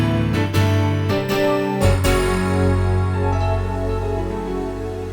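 A Korg Kronos 3 keyboard sounding huge stacked, layered patches: rich sustained chords with a few percussive re-attacks early on, then a long, full, ringing tail, loud and alone.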